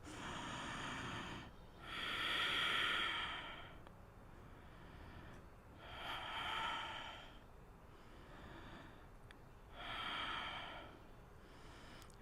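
Slow breathing held during a yoga shoulder stretch, four soft drawn-out breaths in an even rhythm, close but quiet with near silence between them.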